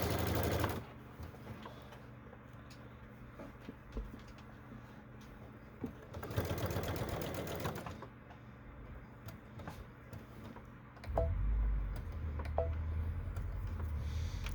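Sewing machine sewing straight across the fabric of a Batman-inspired Vixen bag, a steady mechanical run in bursts with a louder stretch midway and a low rumble near the end.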